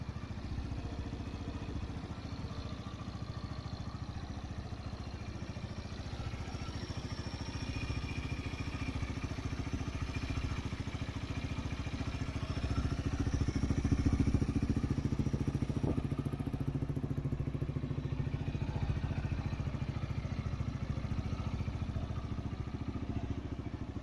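A red 2017 Honda CG 160 Titan motorcycle's single-cylinder engine runs steadily at idle, a continuous low mechanical rumble with light clatter that swells slightly midway and stays close and alone throughout.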